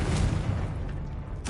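A Confringo spell blast in Hogwarts Legacy: a deep, rumbling boom that swells at once and then rolls away over about a second, close and loud.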